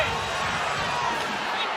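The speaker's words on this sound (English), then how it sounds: "And the crowd is going crazy" A packed arena crowd roars in a steady, dense wash of cheering during a 2022-23 ACC women's college basketball game between Syracuse and Louisville, loud and continuous throughout with no single voice standing out.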